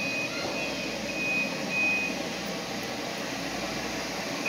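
An automatic floor buffer machine rolls along, giving off a steady mechanical hum with intermittent high electronic beeps rising above it.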